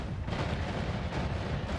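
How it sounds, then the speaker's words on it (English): A wand blast in the game Noita booms out as one dense, sustained rumbling roar with no clear pauses. "The explosion shouldn't destroy the money here, right?"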